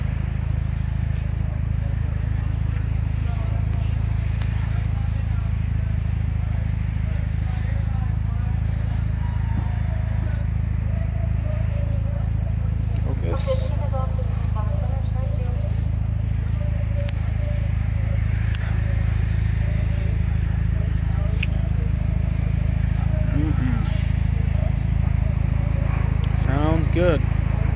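A white 2006 Mitsubishi Evo 9 MR idles with a constant low engine and exhaust drone, near and steady for the whole stretch, as someone speaks on and off above it.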